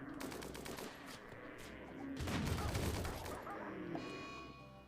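Gunfire from automated defense turrets in the RimWorld colony-survival game, a dense fusillade of rapid shots that swells louder midway and continues steadily to the end with no talking.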